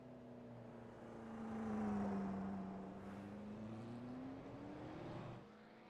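A V8 race car engine in a racing simulator game at Sandown revs out with a rising, then sweeping drone. The sound is fairly faint, holds steady for a while, and then eases off toward the end.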